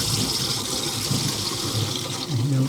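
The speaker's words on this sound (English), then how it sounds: "if I open this valve here, it will fill the water tank." Mains water rushing through an opened valve into a campervan's water tank, a loud, continuous hissing gush with a gurgling undertone that barely changes throughout.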